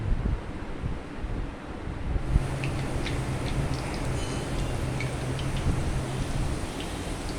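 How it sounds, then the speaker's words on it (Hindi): Homemade keema samosas fry in moderately hot oil, making a steady, dense crackling sizzle that carries through without pause, close up and with no talking. "इनको तेज़ गरम ऑयल में हम फ्राई नहीं करेंगे, नॉर्मल ऑयल में फ्राई करेंगे।"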